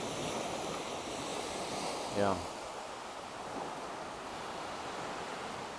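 Atlantic Ocean waves on a beach: a steady, even wash of surf noise under wind, fairly faint and continuous, with a brief voice heard partway through.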